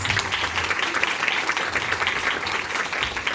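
Applause from the audience at a regional committee meeting in Piracicaba, honoring the committee members as they stand; a steady, dense wash of clapping sustained throughout with no talk over it.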